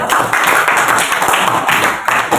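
Classroom applause for a student named Nabil at the close of a lesson, a steady wash of many hands clapping together for a couple of seconds, fairly loud and close, with no talk over it.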